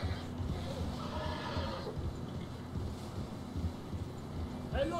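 A horse neighs in the video game Red Dead Redemption 2, a whinny rising near the end over steady wind, hoofbeats and low rumble, with talk audible through the scene.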